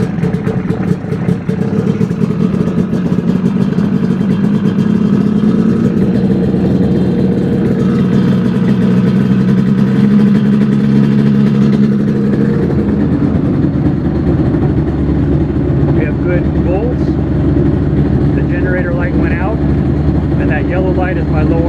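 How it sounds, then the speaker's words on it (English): A Mini-500 helicopter engine starts from the ignition button and settles into a loud, steady idle, a continuous close engine drone that shifts in pitch partway through, with someone talking over it. "And then we push the ignition button to start."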